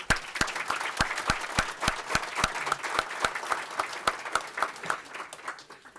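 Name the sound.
audience round of applause at breakfast event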